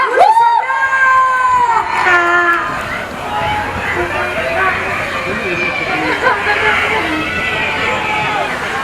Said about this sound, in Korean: 다시 한번 큰 박수로 환영기 바랍니다